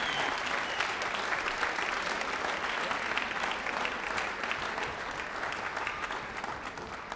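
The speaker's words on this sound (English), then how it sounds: "round of applause for this year's letter awards" An audience at a high school choral concert applauding the year's letter awards: sustained, dense clapping from a large room that stays steady and slowly tapers near the end.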